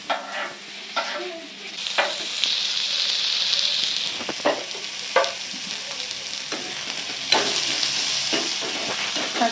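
Onions and tomatoes sauté in a kadai for kadai paneer, a close steady sizzle broken by sharp repeated scrapes and clanks of a spoon stirring against the pan, with no one speaking.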